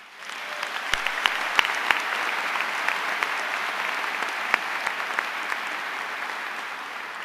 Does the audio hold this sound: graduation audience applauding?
yes